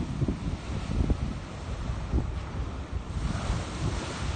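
Big ocean waves crash and wash ashore after a storm near Boston, a loud continuous roar of surf with wind buffeting the microphone and repeated heavy surges.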